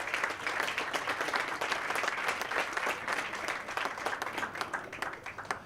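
A book launch audience claps in a steady round of applause, many hands together at moderate volume, thinning into scattered individual claps toward the end.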